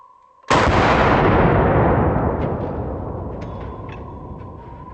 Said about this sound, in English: Let's see what the 30-06 does to a watermelon.